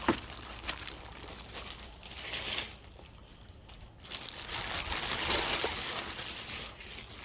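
Plastic wrapping crinkles and rustles close by as it is pulled off a Shark PowerDetect DuoClean vacuum cleaner part during unboxing, in bursts with a short quieter pause midway.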